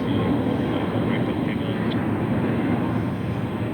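A fully loaded jet airliner at maximum takeoff weight with full fuel departs runway 28 Left at San Francisco International Airport. Its engines give a loud, steady, broadband roar that holds constant throughout.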